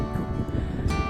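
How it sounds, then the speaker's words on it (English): Steady wind on a hilltop buffets the microphone, a low rumbling roar with gusty swells throughout, close and fairly loud, no voices. "It's getting a little windy up here"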